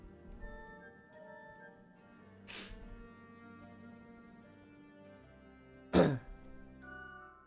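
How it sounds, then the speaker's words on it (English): Two short throat clears from a player during a Wizard101 questing session, one soft near 2.5 seconds and a louder, sharper one near 6 seconds, over quiet game background music. "sorry if you guys hear me clearing my throat or like sniffing or whatever"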